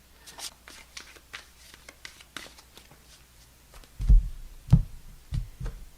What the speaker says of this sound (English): I've been shuffling, so I'm going to shuffle quickly